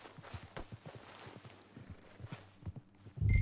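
Horse hooves walk with a steady clip-clop in the video game Red Dead Redemption 2, soft and fairly close, ending in a louder low thud.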